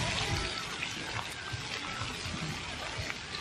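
Water jets shoot up from a fountain in the water play area of a Saigon zoo, giving a continuous hissing spray and splatter at moderate distance with no talk over it.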